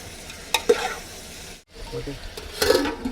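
Bitter gourd pieces fry in hot oil while being stirred, giving a steady close sizzle with scraping and clattering stir strokes. A short break falls midway before the frying resumes.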